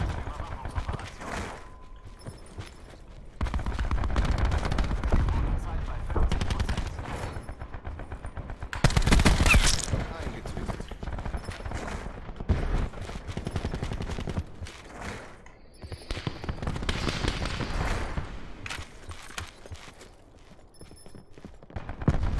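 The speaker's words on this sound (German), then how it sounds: "Ich schieße durch den Holzboden." Bursts of automatic gunfire fired through a wooden floor in Call of Duty Black Ops 4, loud rattling volleys with pauses between them, mixed with game effects while someone talks throughout.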